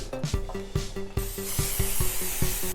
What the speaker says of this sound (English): I'm going to spray a pan with a little bit of pan coat to prevent sticking.